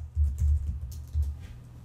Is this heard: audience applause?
no